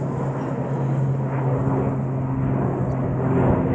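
Blue Islands airliner passing overhead near Marston Green, a steady broadband engine roar with a low droning tone, moderately loud and constant, heard alone without talk.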